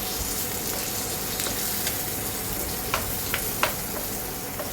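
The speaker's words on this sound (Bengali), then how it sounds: "আবারও প্যান বসিয়ে একটু তেল দিয়ে দিলাম এতে দিয়ে দিলাম শুকনো লঙ্কা তেজপাতা গোটা জিরে" Dry red chilli, bay leaf and whole cumin sizzling in a little hot oil in a pan, a steady dense frying hiss with a few faint utensil taps toward the end, close and without talk.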